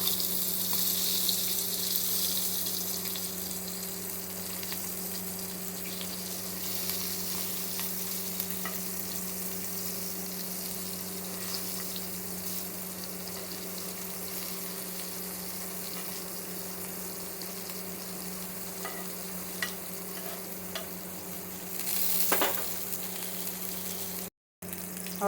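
Tongue sole fish fries in a pan over a low flame, a soft continuous sizzle over a steady background hum, with a few faint clicks and a brief louder bump near the end.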